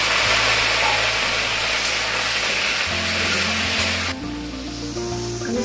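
Fried potatoes tipped into a pan of browned onions while cooking lauki sarson sabzi; a steady loud sizzle hisses throughout, with a low hum beneath and a brief clatter as the potatoes go in, the frying continuing more softly afterward.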